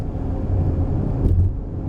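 A 2020 Volkswagen Tiguan Allspace 4Motion seven-seat SUV rolls downhill on the Genting hill road, giving a steady low rumble of engine and road noise heard from inside the cabin, with no talking.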